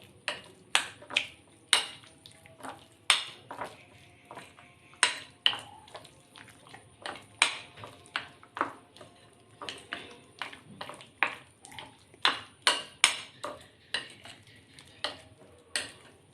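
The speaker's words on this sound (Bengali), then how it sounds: "এখানে আর একটু জল দিয়ে আমি মিক্সড করব।" Chicken pakora mixture is worked by hand with added water in a bowl, giving a steady run of wet slaps, squelches and clicks against the dish, close and moderately quiet.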